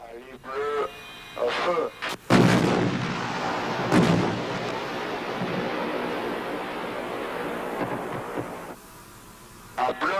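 An AMX-30B2 tank main gun fires at night targets: a heavy, booming blast followed by a long rolling rumble that fades slowly, loud and close, with a voice talking at the start and end.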